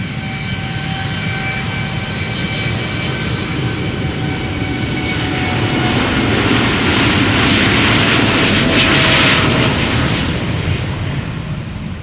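An Air Europa Boeing 787 Dreamliner bound for Madrid roars on departure at Schiphol Airport, a loud, steady jet engine rumble with a whining tonal hum that swells toward a peak near the end.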